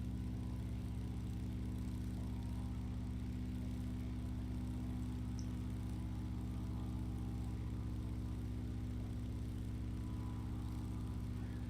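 Small single-engine airplane climbing in flight over the Pacific Northwest, its piston engine and propeller holding a steady, loud droning hum at high RPM throughout, with no talking.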